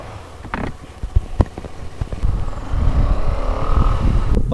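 Engine and exhaust of a KTM Adventure 250 motorcycle, a low rumble with a few sharp pops early on that swells into a steadier, louder drone toward the end, with no talking.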